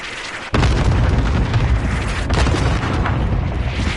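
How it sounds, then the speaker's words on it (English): Cluster airstrike explosions in Call of Duty Warzone land as a sudden loud blast, then roll on in a dense, rumbling barrage with further booms about two and three seconds later. "Airstrike. Cluster strike."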